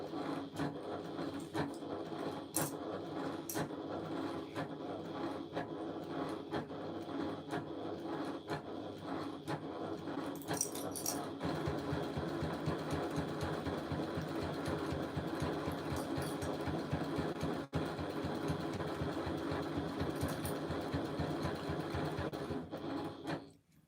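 A sewing machine runs steadily as it stitches binding onto the raw edges of a fabric panel, a close, continuous mechanical whir and patter with a slight change in pace partway through.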